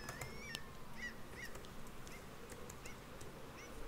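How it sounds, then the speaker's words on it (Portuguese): Seabirds screech repeatedly in the video game Bad North, with short honking calls spaced across a steady low ambient wash of wind or surf, fairly faint, with no voices. "Tem um pássaro gritando pra caramba aqui, né?"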